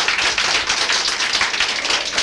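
Applause from an audience at an Italian broadcast event, a dense, continuous wash of many hands clapping close and loud throughout, with no one speaking over it.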